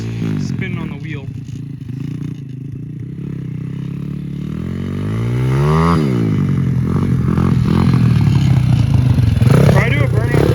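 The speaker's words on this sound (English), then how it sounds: "I think his back tire is spinning on the wheel." A motorcycle's back tire spins against a skinny wheel during a burnout attempt, with a loud rising engine rev, a scraping whine that sweeps up and down, and clattering throughout.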